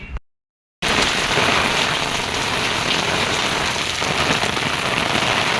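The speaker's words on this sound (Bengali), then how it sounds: "কি বৃষ্টি হচ্ছে" Heavy rain from Cyclone Remal pours steadily onto an open rooftop, a dense, close, unbroken hiss that begins after a brief silent gap and continues loud to the end with no voices.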